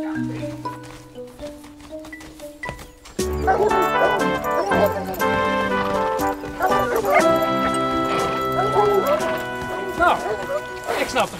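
Hunting dogs bark and yip during a fox hunt in a forest, with hoofbeats also present, all mixed under music and overlapping speech.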